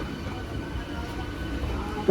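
A Sealdah–Ranaghat local train runs at night with a low, steady rumble and rattle heard from inside the carriage, fairly quiet and continuous.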